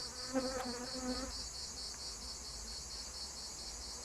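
Honeybees at an open hive, a faint low buzz flickering briefly over a constant high insect drone, no voices.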